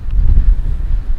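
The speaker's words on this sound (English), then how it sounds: "this wind got a little bit out of control" Strong gusting wind buffets the microphone outdoors during a Tennessee turkey hunt, a loud low rumble with no voices.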